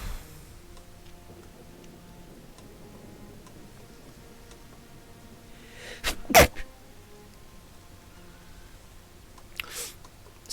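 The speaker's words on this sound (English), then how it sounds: "Sneeze." A single sharp sneeze bursts out close by over a quiet room, followed a few seconds later by a fainter, shorter sniff-like burst.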